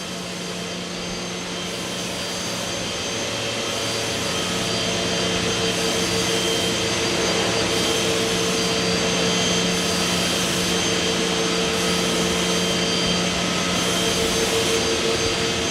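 A CNC router drills a sheet for cabinet parts while its vacuum hold-down pumps run, making a loud, steady whine and roar that builds slightly and holds constant throughout, with no talking.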